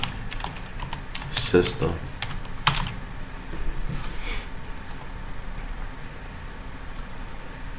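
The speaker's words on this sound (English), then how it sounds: "This time I'm going to type operating" Computer keyboard keys clatter in quick bursts of typing, moderately close, with a person speaking briefly over the clicks.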